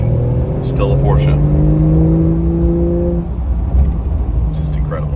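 A 2025 Porsche 911 engine revs and accelerates, rising in pitch then easing off, loud and near over a steady rumble, with voices talking faintly at moments.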